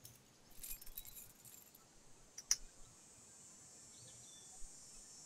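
Keys jangling in The Walking Dead video game as an officer's keys are taken, a brief faint metallic clink near the middle over quiet ambient background with soft insect-like hiss.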